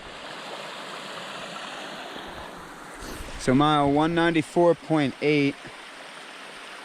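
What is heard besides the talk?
stream water flowing beside a gravel road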